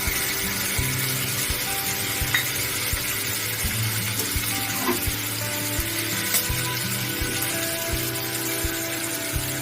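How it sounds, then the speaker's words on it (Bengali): Grated green papaya and green chillies fry in spiced masala in a pan. The sizzle is loud, close and steady, with faint scraping and stirring running under it the whole time. "মশলাটা কষিয়ে নিয়ে এবারে গ্রেট করা পেঁপেটা দিয়ে দেবো, 3টে কাঁচা লঙ্কা দিয়ে দেবো।"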